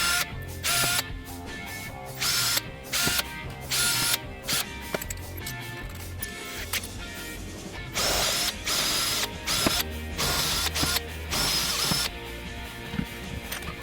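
A power drill whirs in repeated bursts, starting and stopping with a grinding, ratcheting buzz as it bores a bolt hole at close range.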